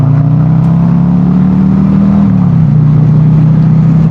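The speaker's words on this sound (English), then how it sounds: "Pull this bike outside and take a look at it in the light and go for a ride." A Harley-Davidson Road Glide motorcycle ridden outdoors gives a loud, steady V-twin engine drone that holds at a constant pitch and dips slightly partway through, with no talking.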